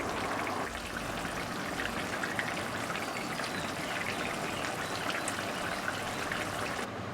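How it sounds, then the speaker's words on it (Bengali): A pot of singi fish curry with green banana and potato boils steadily, giving a continuous bubbling, trickling wash of moderate loudness with no voices. "মাছের ঝোলটা ভালো হয়ে ফুটে এসছে।"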